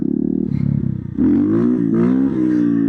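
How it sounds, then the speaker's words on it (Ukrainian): GEON GNX 300 motorcycle engine revving hard and close during a wheelie, its pitch climbing and wavering as the throttle is worked. "давайте пробувати підривати цей мотоцикл на заднє колесо"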